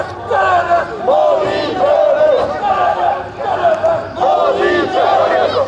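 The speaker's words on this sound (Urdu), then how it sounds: "اس دوران مودی دہشت گرد کے نعرے گونجتے رہے" A protest crowd chants slogans calling Modi a terrorist in loud, rhythmic bursts, many voices shouting together in repeated phrases with brief pauses between them.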